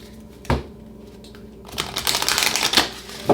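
Tarot cards being shuffled by hand in a few quick riffling bursts, a sharp snap near the start then a longer rustling flurry toward the end, close and fairly quiet.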